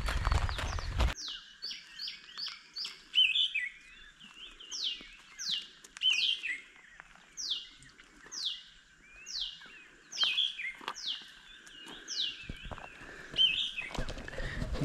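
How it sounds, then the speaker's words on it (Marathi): Birds call in a monsoon forest on the Padargad trek: a repeated series of sharp, descending whistled notes, each about a second apart, fairly clear over a steady background hiss, with no voices. "आपण जंगलामध्ये कोणते कोणते पक्षी असतात त्यांच्या आवाजावरून आपल्याला कळतं की हा कोणता पक्षी."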